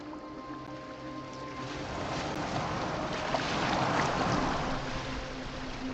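A boat moving across water in the video game Assassin's Creed Valhalla, giving a steady broadband wash of water and wind with a low engine-like hum, constant and close, with no talking.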